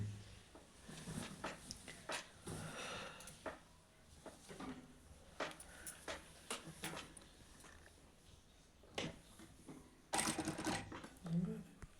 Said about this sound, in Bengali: টান সেলাইটা আমি দিয়ে নিচ্ছি